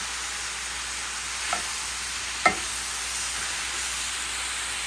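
Lomo saltado with cut bell pepper stir-frying in a pan makes a steady hissing sizzle, with two brief clacks of a utensil standing out from the even frying noise.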